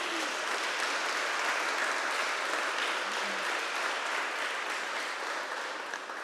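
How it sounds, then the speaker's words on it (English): A conference audience applauding at a closing address, a dense, even wash of many hands clapping that holds steady throughout, heard from a moderate distance. "I also would like you to give a big round of applause to the the transformation delivery team in Deeper"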